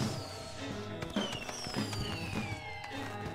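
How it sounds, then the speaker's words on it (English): Fireworks burst in the indie game Haimrik, with crackling pops and rising whistling streaks layered over a busy game soundtrack, continuing steadily throughout. "There's also fireworks, too."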